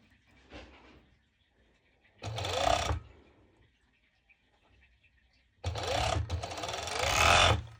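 A sewing machine stitches mesh shorts in three bursts: a short faint one, a louder run of about a second, then a longer steady run of two seconds, with quiet gaps between.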